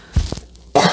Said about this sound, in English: I had a cough again.